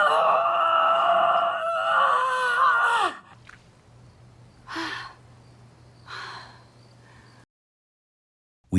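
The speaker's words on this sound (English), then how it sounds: "we hear Elizabeth grunting and gasping as she struggles over to her star" A woman in the film The Substance grunts and gasps with effort, a loud strained vocal burst of about three seconds, followed by quieter short gasps and then silence.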